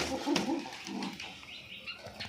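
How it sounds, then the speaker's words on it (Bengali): Fancy pigeons coo softly in a few low, rolling phrases, with a faint flutter and light chirps around them at moderate distance. "ফেন্সি পায়রা 2 জোড়া 3 জোড়া 4 জোড়া আছে"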